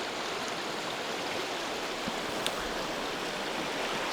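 Water flowing steadily in Catherine Creek, a stream running high in early March with snow along its banks, a continuous broadband rush with no voices.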